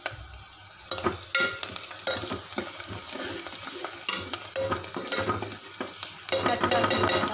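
Turmeric stirred into spices and bay leaf frying in a pan, with steady sizzling under repeated scraping spoon strokes that come in bursts throughout.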